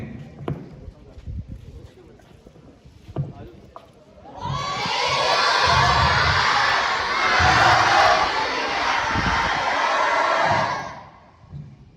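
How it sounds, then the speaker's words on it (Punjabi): A large crowd shouts a Sikh jaikara together, a loud sustained roar of voices lasting several seconds that rises after a quieter stretch of scattered sound and talk, then fades. "ਤੁਸੀਂ ਸਾਰਿਆਂ ਨੇ ਨਾਲ ਹੀ ਇੱਕ ਜੈਕਾਰਾ ਲਾਉਣਾ"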